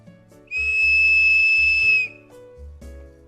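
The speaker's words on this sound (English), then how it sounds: "The whistle is located on the side and is very loud, throwing out more than 120 decibels to scare away wildlife or call for help." A survival kit's side-mounted emergency whistle rated over 120 decibels gives one loud, sustained shrill blast of about a second and a half, piercing and steady, between low background rumbles.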